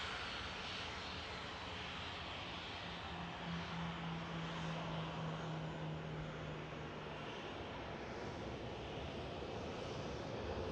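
A Ryanair airliner vacating the runway at Manchester Airport makes a loud, continuous engine rumble and hiss nearby, with a steady droning tone that fades partway through, and no talking.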